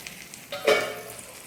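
Eggs fry in a pan with a soft, close sizzle that swells briefly with a short scrape midway, then settles back to a quiet crackle.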